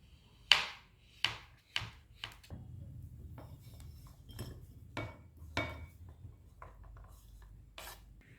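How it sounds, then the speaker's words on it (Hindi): A knife cuts through hardened chocolate, giving several sharp, separate scraping cracks early on, then softer, quicker rasps against a board, all close and fairly quiet. "फिर आप उसे कट कर लीजिए।"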